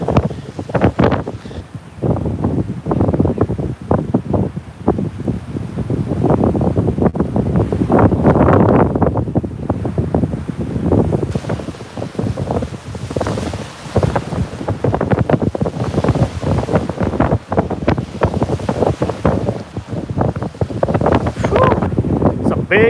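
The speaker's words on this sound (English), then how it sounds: "No need in y'all just listening to the wind noise all day." Strong wind buffets an outdoor microphone during a wind storm while fishing from a boat on open water, a continuous loud rumbling roar with surging gusts and no clear speech.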